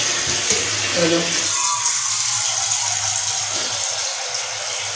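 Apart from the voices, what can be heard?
water running from a tap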